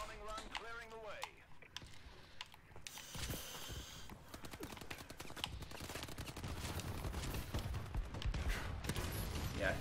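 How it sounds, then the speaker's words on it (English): Heavy game combat during a friendly bombing run: dense rapid gunfire and explosive bursts fill the mix continuously, loud and busy, with a voice speaking over it. "Friendly bombing run clearing the way."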